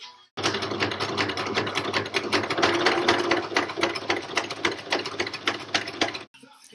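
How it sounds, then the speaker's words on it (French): A sewing machine stitches the fabric of a dog harness along a seam, a close, steady rapid clatter of needle strokes running for about six seconds before stopping abruptly. "je vais coudre toute la longueur à 1 cm du bord au niveau des deux tissus qui se rejoignent"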